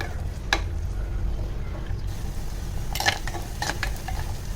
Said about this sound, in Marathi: काही जरा कांदा लाल दे की मग आपलं वाटण घालायचं आहे